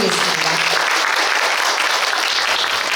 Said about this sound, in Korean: 중등부 4팀 모두에게 큰 박수 부탁드리겠습니다.